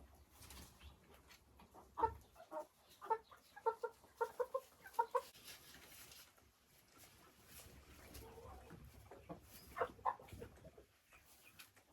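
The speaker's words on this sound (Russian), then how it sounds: "Вот эта курочка у меня несется уже." Hens, including a crested Dominant laying hen, cluck in short repeated bursts at close range in a henhouse, clustered in a lively run early on, then quieter scratching before a few more clucks near the end.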